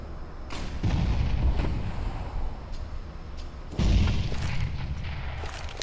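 Flashbang grenades and gunfire in a shooter video game: two heavy booming blasts a few seconds apart, each followed by a dense rumbling tail and scattered sharp cracks, loud and close.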